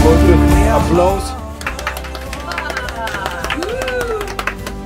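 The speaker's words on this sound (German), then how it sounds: "Applaus." Applause and clapping from a crowd at an outdoor hiking gathering, loud and steady, mixed with crowd babble and music fading out underneath.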